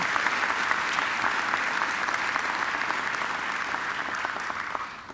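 A graduation ceremony crowd applauds an occasional address with a steady, full wash of clapping from many hands, holding evenly throughout and easing off only at the very end.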